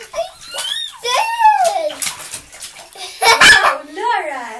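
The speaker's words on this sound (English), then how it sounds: "Splash some more!" A young child splashes water in a bathtub amid excited high-pitched squeals and chatter, with a loud burst of splashing water about two-thirds of the way through.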